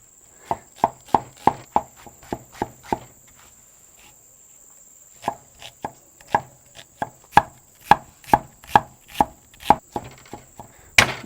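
A knife chops garlic on a cutting board in quick regular bursts of sharp thuds, pausing briefly midway before the rhythmic chopping resumes, with a faint steady high whine in the background.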